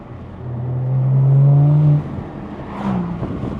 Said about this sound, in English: let's hear what the crackles sound like.